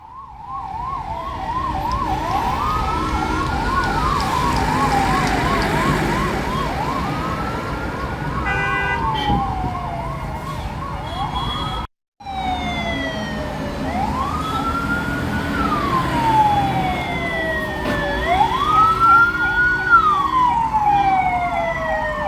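Ambulance sirens wailing loudly and continuously from vehicles stuck in a heavy traffic jam on the highway between Nelamangala and Bengaluru, with rising and falling tones layered over traffic rumble and one brief dropout.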